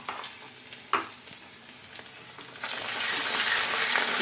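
Ginger-garlic paste added to browned onions for chicken biryani: a few stirring knocks over soft frying, then the sizzle swells into a loud, close, continuous hiss, with no voices.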